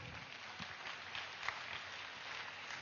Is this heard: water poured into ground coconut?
no